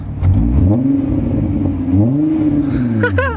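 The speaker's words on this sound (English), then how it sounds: "Car sounds great." A car engine hums and rises in pitch as it accelerates, dips while shifting, then revs up again close by, with no talking.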